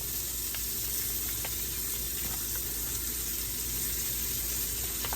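Cube steak fries in a pan over medium heat with a dense, continuous sizzle and crackle that fills the space evenly, loud and close, with faint pops and no talking.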